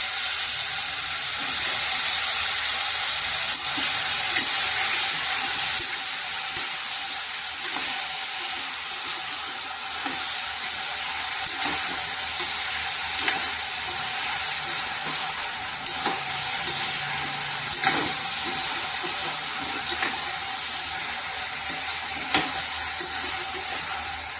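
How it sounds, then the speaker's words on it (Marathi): Eggplant pieces frying in oil with softened tomato and garlic, a steady close sizzle lasting throughout, broken by frequent small scrapes and pops as the mix is stirred. "त्यात आपण आता वांगी टाकूया आणि तेलात वांगी फ्राय होऊ द्यायची 5 मिनिटं।"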